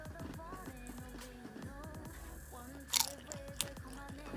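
Crispy fried wonton is bitten and chewed close up, quiet chewing with a couple of sharp crunches near the end, under faint talk.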